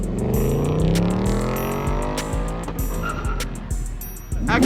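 A brand new Ford Mustang slides at a car meet, its engine note climbing and tires squealing in a sustained, loud screech close by, with rhythmic thumps underneath and faint voices in the background.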